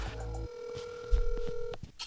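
A phone call is placed, with a sustained tone and a couple of short beeps, then a ringback tone that cuts off, followed by faint clicks and rustle.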